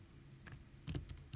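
A calculator's buttons being pressed, a handful of quick, faint plastic clicks in an uneven sequence, close up and quiet.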